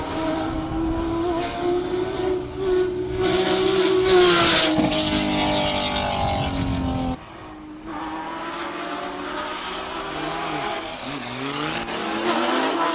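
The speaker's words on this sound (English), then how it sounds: "Right afterwards, we've got the Audi S4. Quattro, turbo, 6-cylinder, and above category." Audi S4 Quattro with a turbocharged six-cylinder engine accelerating up a hill-climb course at a classic car event, a loud rising engine roar with gear changes, heard close, then fading slightly as it pulls away.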